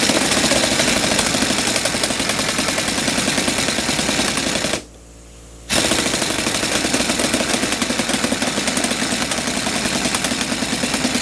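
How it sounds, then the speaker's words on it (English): An air compressor in a workshop charges up with a steady, loud, close mechanical drone, broken by one brief pause near the middle before it resumes. "I'll let the compressor charge up for a minute here."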